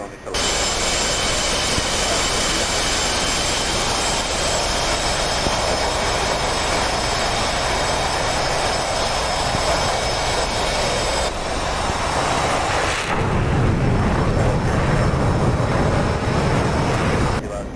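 An F/A-18 jet engine in the DCS World flight simulator throttles up, a loud, steady broadband roar that deepens into a heavier low rumble near the end.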